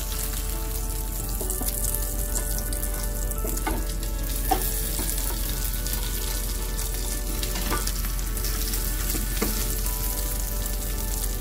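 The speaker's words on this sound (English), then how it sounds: "So I've been cooking it covered only because it's a thick piece of fillet. So it's been about 3 minutes. And I'm gently gonna turn the fish over." Thick salmon fillet sizzles and fries steadily in a pan as it is gently turned over, a continuous close crackle with brief scraping bumps from the turning.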